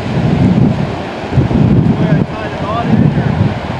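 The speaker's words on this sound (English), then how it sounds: "Maybe it's too much wind." Strong beach wind buffets the microphone during kite flying, a loud, steady low rumble that surges and dips in gusts, with a voice faintly present underneath.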